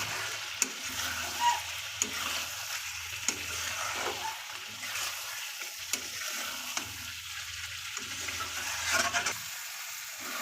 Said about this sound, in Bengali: কিছুক্ষণের জন্য আবার মাংসটাকে কষিয়ে নেব আমরা